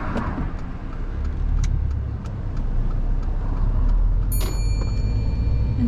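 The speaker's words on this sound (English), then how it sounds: "Just gonna wait for this car to pass." Inside a learner's car on a driving mock test, another car passes by outside, its engine noise swelling and fading over a continuous low road rumble.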